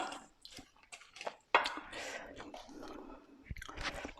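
Someone tasting spicy Thai chicken salad, close soft chewing and crunching with wet mouth sounds and a sharp bite, quiet breaths and faint murmured voice in between.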